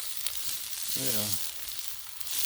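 Luncheon meat sizzles in ghee on a griddle, a steady hissing fry throughout, with a brief voice-like tone in the middle.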